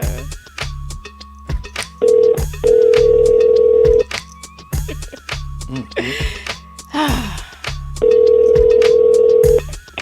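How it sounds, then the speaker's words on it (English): Telephone call on a radio show, with a loud, repeating electronic ring and tone in bursts, mixed with studio music and brief vocal sounds. "You answered on the first ring."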